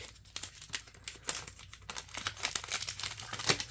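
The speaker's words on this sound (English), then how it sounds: "Trying to push the card right down so we hopefully don't cut it while we cut open the pack." Scissors snip and crinkle through the foil wrapper of a Harry Potter chocolate frog pack, a close, busy stretch of crackling and tearing plastic with no voices.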